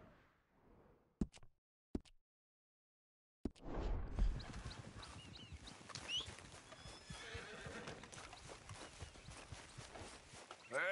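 Horse in Red Dead Redemption 2 neighing, then hooves trotting in a steady clip-clop rhythm, close and fairly loud, after a few isolated knocks and a brief silence.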